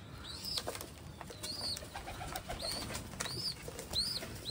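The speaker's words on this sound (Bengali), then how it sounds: "সব পায়রাই চলে এসছে খাওয়ার জন্য আস্তে আস্তে।" A flock of pigeons arrives to feed, their wings flapping in repeated fluttering bursts close by, with soft bird sounds in the background and no talking.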